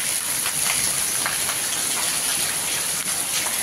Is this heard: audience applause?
no